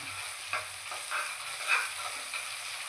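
Onions being stirred in a hot pan while cooking a spicy dry chicken dish, with repeated scraping strokes over a steady close sizzle and no voices.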